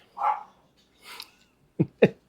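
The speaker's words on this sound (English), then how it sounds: "And the dog's barking." A dog gives a few short barks inside an RV, several spaced-out yaps with a louder pair of sharp barks at the end, fairly close and clear with no talking.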